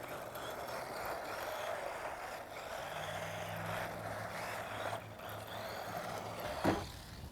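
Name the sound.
4WD RC truck driving off road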